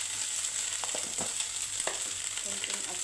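Chao fan fried rice with egg sizzling in a hot pan, a constant close hiss of frying broken by a few soft scrapes and taps of stirring.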